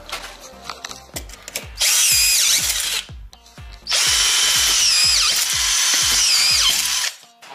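Cordless power screwdriver fed by a collated screw tape drives screws into drywall in two long, loud whirring bursts, with clicking taps and short tool rattles in between and no talk.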